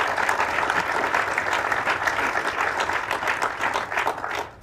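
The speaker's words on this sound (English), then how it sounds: "Give him a round of applause" A crowd at a ballooning hall of fame ceremony applauds a former mayor, dense steady clapping that holds for several seconds and fades slightly at the end.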